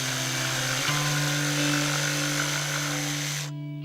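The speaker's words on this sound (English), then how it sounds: "I have to sand all this surface to the point that everything is all flat" Power sander running steadily on the surface of a wooden chicken coop door, a continuous close whine that shifts pitch slightly partway through before cutting off near the end.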